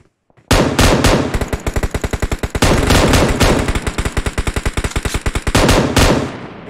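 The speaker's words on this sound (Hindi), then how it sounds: "M249 और साथ में 4x लगा के गाइस लगातार गोलियां बरसाई जा रही है" An M249 machine gun with a 4x scope in a battle royale video game firing long, continuous bursts of rapid, loud, close shots, broken by only a few brief pauses.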